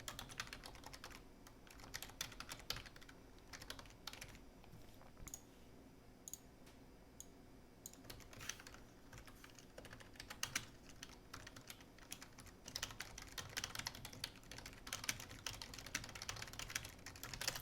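Keys clatter on a computer keyboard as a chat message is typed out, irregular bursts of close clicking with short pauses between runs, growing busier toward the end, with no voices.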